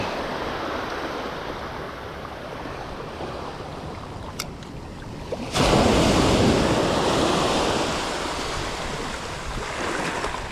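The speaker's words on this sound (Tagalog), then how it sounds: "Napakalaking alon mga idol." Large ocean waves roll steadily under wind noise and then break with a loud surging crash about halfway through, the surf staying heavy before easing slightly. No voices are heard.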